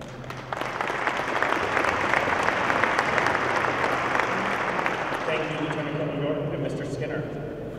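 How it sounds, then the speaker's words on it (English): Audience applause at a military honorary commander change-of-command ceremony, broad sustained clapping that swells and holds, with some voice-like tones mixed in underneath. "Please join me in a round of applause for our outgoing and incoming 366 Operations Group Honorary Commanders"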